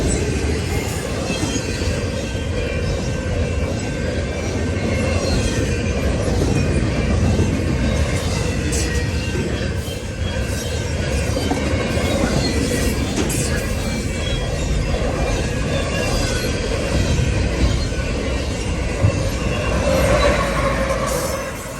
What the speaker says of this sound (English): Because this is a typical intermodal train,